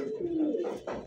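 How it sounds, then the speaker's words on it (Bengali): Pigeons of fancy breeds offered for sale coo nearby, a soft low throaty coo rolling over about a second, with a faint noisy rustle at the end. "এত সুন্দর কবুতর দেখেন একদম কোয়ালিটি ফুল"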